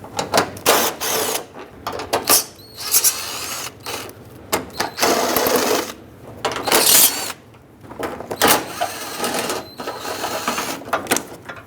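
Bolts being removed from a front bumper bracket on a 2010-2017 Chevrolet Equinox, one 10mm and four 7mm, in irregular bursts of close ratcheting and mechanical clicking separated by brief pauses.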